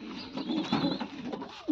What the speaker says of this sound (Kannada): ನಾಟಿ ಪಾರಿವಾಳ ಇದು ಅವನ ಹತ್ರ ಒಂದು ಜೊತೆ